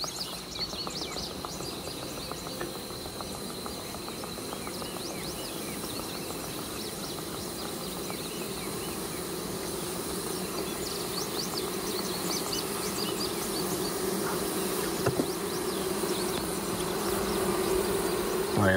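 Honey bees hum in a packed hive as a dense, continuous buzz that grows slightly louder over time, heard up close and alone, with a sharp clack at the very end.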